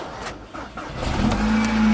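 Volkswagen Golf GTI with a weak battery and an exhaust rattle cranking and catching, a brief churn that rises into a loud, steady running engine hum, close by.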